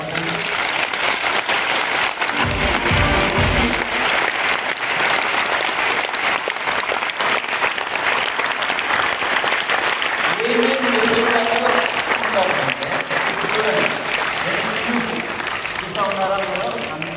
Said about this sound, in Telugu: దానికే క్లాప్ కొట్టాలి